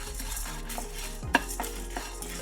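Lentils, urad dal, chana dal and spices being stirred in a dry pan for a drumstick-leaf spice powder, with continuous scraping and rustling, one sharp clink of the spoon against the pan, no talking.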